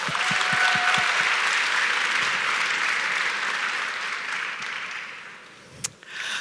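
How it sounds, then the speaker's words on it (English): Conference audience applauding for volunteers, a full sustained round of clapping that gradually fades toward the end, with a few thumps at the start. "an extra round of applause for our volunteers"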